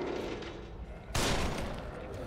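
A loud gunshot booms in the survival horror video game The Evil Within, a single sharp blast over a dense, rumbling game background.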